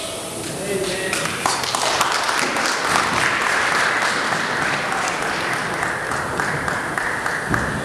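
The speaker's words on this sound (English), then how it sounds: "Nous allons encore applaudir une fois de plus pour la parole de Dieu." Congregation applause at a memorial viewing for a journalist, a loud sustained roar of many clapping hands with voices mixed in throughout.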